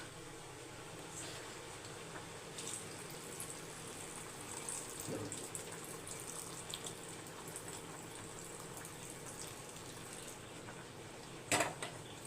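Water is poured into a pot of lima beans, a faint, steady trickling and splashing with light kitchen clatter and a sharp clank near the end.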